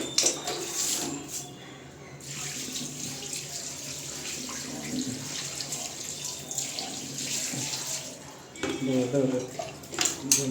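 Water poured into a leaking vessel to rinse it, a steady tap-like splash and trickle running under nearby talk, briefly pausing near the end before resuming with louder splashing.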